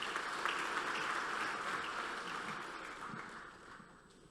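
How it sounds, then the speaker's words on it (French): Conference audience applause greets a minister at an opening session, a dense wash of many hands clapping heard from a distance, fairly faint and gradually tapering off. "Vos applaudissements, s'il vous plaît."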